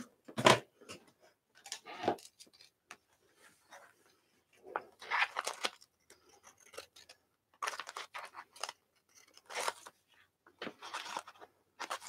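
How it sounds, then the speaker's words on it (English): Scissors snipping and scraping at something close up, in scattered bursts of sharp crunchy cuts separated by short pauses. "I'm just going to cut it with my scissors"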